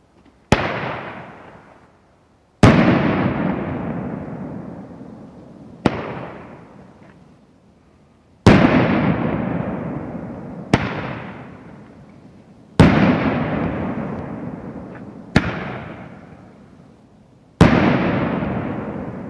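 Two-inch baseball bat firework shots bursting one after another, eight sharp booms spaced a couple of seconds apart, each ringing out with a long decaying rumble and echo, loud and outdoors.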